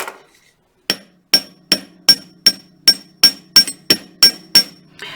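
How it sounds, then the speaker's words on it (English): A hammer strikes a wire pendant frame resting on a steel bench block about a dozen times, each blow a sharp, close metallic tap with a bright ring, falling in a steady rhythm after a brief quiet start. "I'll get my bench block out, and holding all things steady, I'll hammer one side at a time."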